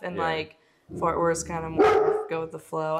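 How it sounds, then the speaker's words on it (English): A pet dog barks a few times in short bursts close by, mixed in with a person talking indoors. "that's my dog"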